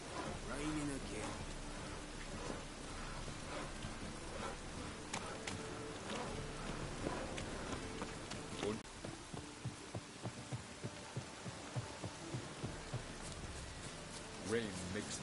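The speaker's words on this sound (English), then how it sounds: "Raining again." Steady rain in The Witcher 3 video game patters throughout, with soft drips and a low thumping pulse underneath, while scattered voices and game sounds drift in and out.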